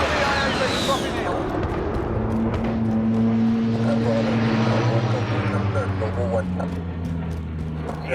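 A propeller-driven aircraft flies a precision airstrike over the battlefield in Call of Duty: Modern Warfare (2019), its loud, continuous droning engine sweeping steadily through the scene with a brief rushing burst near the start.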